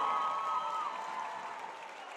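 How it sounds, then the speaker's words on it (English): Applause from an arena crowd at a Battle of the Classes event honoring the John Feal Foundation, a soft, distant wash of clapping with a faint whistle at the start, fading gradually. "Let's give them a round of applause."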